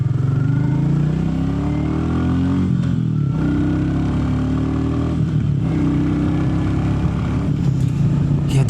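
A Royal Enfield Meteor 350 motorcycle fitted with a belt drive accelerates, its engine note rising steadily and staying loud and close throughout, with a short dip partway through.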